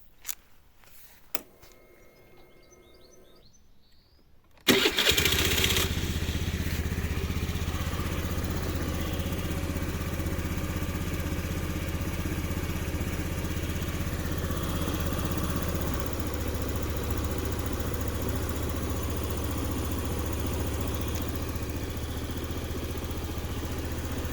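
A Honda Dio 110 scooter engine sputters to life after a few quiet clicks, then settles into a steady, close idle with a slight shift in pitch partway through.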